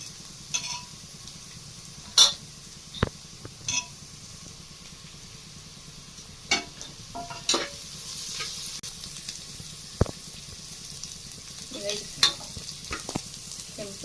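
Coriander leaves and spices fry in a hot pan, giving a soft continuous sizzle broken by a few sharp scrapes and clinks as they are stirred, with no talking.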